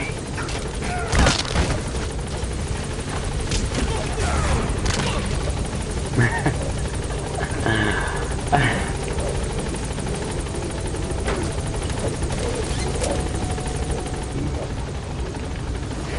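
A helicopter holds at a landing zone in Metal Gear Solid V, its loud steady rotor and engine roar filling the scene with a few dull thumps and bangs mixed in, while a voice talks over it.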